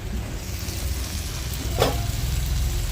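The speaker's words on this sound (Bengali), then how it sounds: "এক পিঠ একটু লাল লাল করে ভাজা হয়েছে" Crab with taro stolons fries in a pan, a constant close sizzle and bubbling with a brief clatter midway, no one talking.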